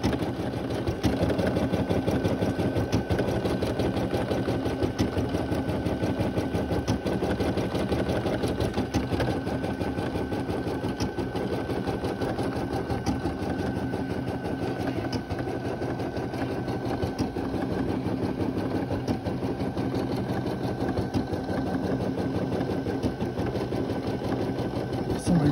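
A Brother PE 800 embroidery machine stitching a design on a shirt, a steady fast mechanical whir and needle tapping running continuously and evenly at close range.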